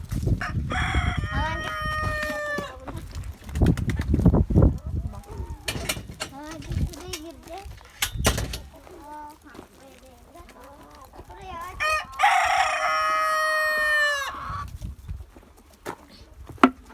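Chickens and a rooster in a village coop, with repeated harmonic crowing calls near the start and again loudly toward the end, amid clucking, rustling and scattered handling noises close by.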